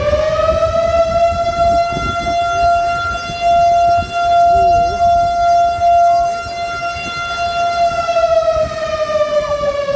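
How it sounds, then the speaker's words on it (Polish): A civil defense siren in León, Nicaragua, holds a loud, sustained wailing tone that drifts slightly in pitch, with faint background noise beneath it. "Załapaliśmy się na alarm jakiś, syreny wyją."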